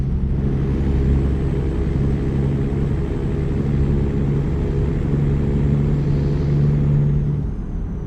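Steady low rumble of a truck engine in American Truck Simulator as it runs through the gears, a droning hum that holds for several seconds with slight shifts in pitch, easing off at the very end, with no voices.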